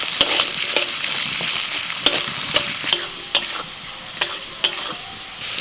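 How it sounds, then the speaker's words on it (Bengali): Beans and carrots fry together in a pan for vegetable pulao, giving a steady, close sizzle broken by regular stirring scrapes and sharp clicks of the utensil against the pan. "এবার ভেজে নেব বিনস আর গাজর"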